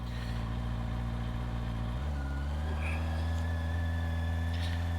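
A Honda CBR650R motorcycle engine idles with a low, steady throb, shifting slightly in tone midway as if clicking into gear, and then settles into an even, close rumble.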